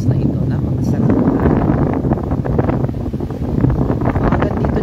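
Steady, loud wind buffeting the microphone by the sea on Marinduque, with a continuous rough rumble under a person talking.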